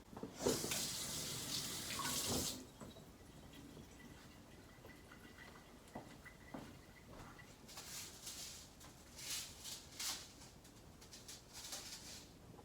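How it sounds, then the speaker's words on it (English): Hands are washed under a running tap: a strong hiss of water at first, then softer splashing and trickling as the hands move under the stream. "Gonna wash my hands."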